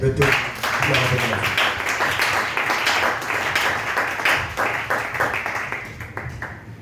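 A church congregation applauding to acclaim the Lord, sustained loud clapping from many people with a rhythmic, slightly uneven pulse, joined by voices and cheering underneath, fading a little toward the end.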